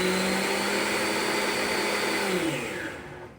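A Vitamix blender grinds oats into oat flour with a loud, steady, high-pitched motor whine that holds for several seconds, then winds down as it switches off.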